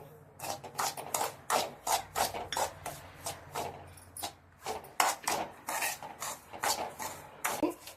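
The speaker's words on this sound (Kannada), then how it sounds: "ಈಗ ದ್ರಾಕ್ಷಿ ಗೋಡಂಬಿ ಫ್ರೈ ಮಾಡ್ಕೊಂಡಿರೋ ತುಪ್ಪಕ್ಕೆ ರವೆನ ಹಾಕಿ ಚೆನ್ನಾಗಿ ಹುರ್ಕೊತಾ ಇದ್ದೀನಿ" Semolina being roasted in ghee after raisins and cashews were fried, stirred steadily in a pan with a repeated rhythmic scraping and clatter of a spoon against metal, close and fairly quiet.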